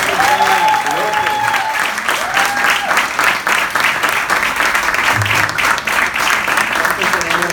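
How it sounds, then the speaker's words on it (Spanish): Church congregation applauding loudly and continuously, dense rhythmic clapping throughout with a voice speaking over it at times. "Dele un aplauso fuerte al Señor."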